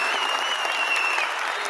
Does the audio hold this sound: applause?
yes